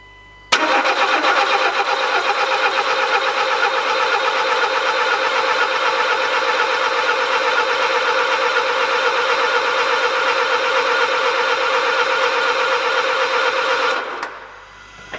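A Citroën C3 with a rebuilt TU3JP engine and its TDC sensor unplugged cranks on the starter for about fourteen seconds without firing, to prime the oil. The whirring is loud, steady and close, then stops abruptly.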